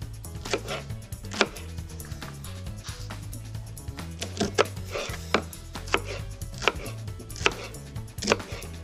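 A knife chops an onion into quarters on a cutting board, giving a steady run of sharp, close chopping strikes with a low hum running underneath.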